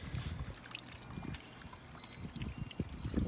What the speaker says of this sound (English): the water trickling down over the sphere.